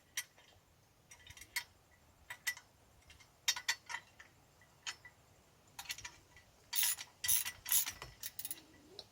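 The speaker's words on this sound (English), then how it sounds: "Get a wrench on the side." A wrench ratchets on a bolt fitted with a Teflon-ringed locking nut on a TimberJack logging tool, quick clicking bursts in uneven runs, close and fairly quiet against a hushed background, with no talking.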